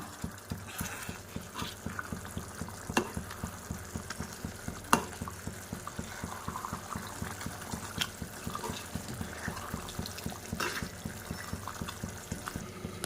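Prawn gravy frying in a pan and being stirred, with a soft continuous bubbling sizzle broken by regular scraping strokes and a few sharper clinks of the spoon.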